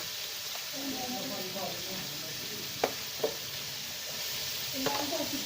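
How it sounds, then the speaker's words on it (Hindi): Onions fry in a pan with a faint, steady sizzle. A spoon stirs and scrapes now and then, and a few sharp clinks stand out above the frying. "ऑनियन को सारा डालकर अच्छे तरीके से इसको थोड़ा सा भून लेंगे।"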